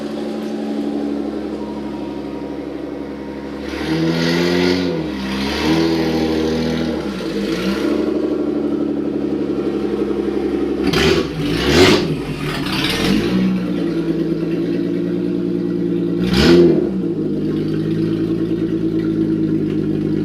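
A Toyota MR2 with a V6 swap and a Fujitsubo exhaust revs and accelerates on a test drive. The engine drones steadily and climbs through several rising and falling bursts of revs, with a few sharp, loud spikes near the middle and the end.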